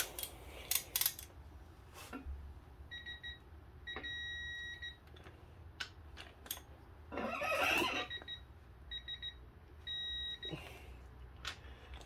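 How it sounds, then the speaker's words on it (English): A torque wrench tightens bolts on a small-block Ford engine during piston and ring installation, set to 50: close ratcheting clicks and short rasping bursts, with several steady electronic beeps sounding in repeated pairs over a quiet shop background. "let's torque them"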